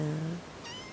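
A house cat meows once, a clear, fairly loud cry close by that fades out, followed by a brief higher faint call.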